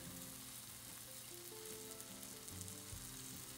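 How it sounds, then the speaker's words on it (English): Bread sizzles softly in a hot frying pan, a steady, faint crackle of frying with low hum beneath and no talking. "As our bread is toasting, it's getting really nice and soft on top and getting just a little bit crispy."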